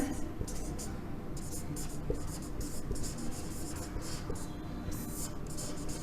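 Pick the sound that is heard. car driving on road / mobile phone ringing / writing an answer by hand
writing an answer by hand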